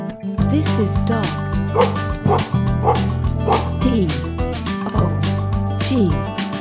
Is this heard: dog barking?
yes